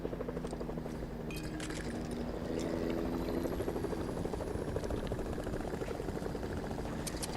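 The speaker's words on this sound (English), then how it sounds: "well, a helicopter overhead." A helicopter in the video game Fortnite passes overhead, its blades giving a steady rapid chop that holds fairly loud for several seconds, with faint clinks from game effects and no speech.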